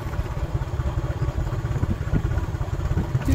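Motorcycle engine running on a Philippine mountain road, a steady low throbbing rumble with rattling clatter, loud and near, continuous across the whole stretch.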